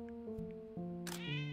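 A cat meowing in the game Before Your Eyes, a drawn-out, wavering meow with shifting pitch, close and clear, ending in a brighter rising cry with a soft noisy burst.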